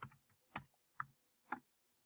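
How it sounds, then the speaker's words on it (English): Someone types on a computer keyboard, producing a handful of crisp, close key clicks in an uneven rhythm, quiet and alone with no talking. "I'm just using my keyboard here."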